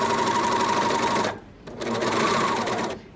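A serger sewing machine runs loud and close, stitching and trimming the edges of a wallet, with a steady whir that stops briefly mid-way and then resumes.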